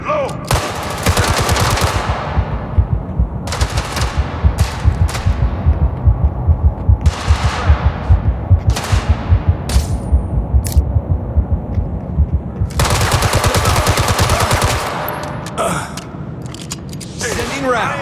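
Video game gunfire in Gangster Mirage City during a jewelry heist: loud, dense bursts of rapid shots repeat across the clip with short gaps between them, and voices talk over the shooting.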